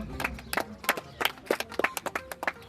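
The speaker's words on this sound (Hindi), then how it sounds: "जोरदार तालियां हो जाए दोनों महिलाओं के लिए।" Short burst of scattered hand clapping from a gathering at a government senior secondary school ceremony, uneven claps at close range with no talk over it.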